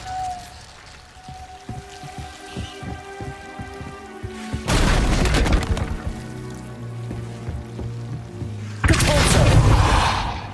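The Incendio fire spell cast in Hogwarts Legacy, two loud roaring bursts of flame several seconds apart, following soft plucked musical tones.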